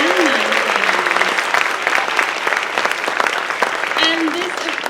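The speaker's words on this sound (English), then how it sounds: "can we have one more round of applause for all of our performers this evening?" Loud, sustained applause from a school concert audience cheering fifth- through ninth-grade percussion performers at an evening show, dense and steady throughout, with a voice briefly audible over it near the start and again toward the end.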